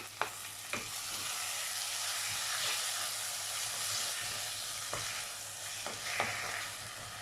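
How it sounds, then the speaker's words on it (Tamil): Onion and tomato with green chilli and curry leaves sizzle steadily in a pan for a bottle gourd kootu, with occasional scraping stirs and clinks over the continuous frying hiss, and no voices. "வெங்காயம் தக்காளி நல்லா வதங்கிடுச்சு"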